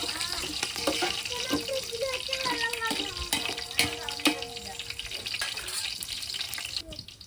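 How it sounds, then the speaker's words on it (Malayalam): Water is poured into rice in a cooking pot, a continuous close splashing and gurgling mixed with sizzling and occasional clinks, with a person talking over it. "ഒരു ഗ്ലാസ് അരിക്ക് രണ്ട് ഗ്ലാസ് വെള്ളമാണ് കേട്ടോ പാകത്തിലുള്ള വെള്ളം ഒഴിച്ച് കൊടുക്കുന്നുണ്ട്"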